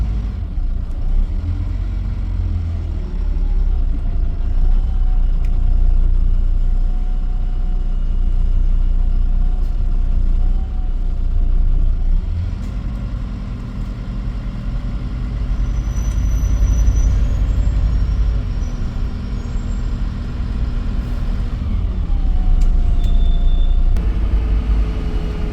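Stagecoach buses idle and move through a bus station in Hull, making a constant deep engine rumble with faint higher whines and clanks over a long stretch with no talking.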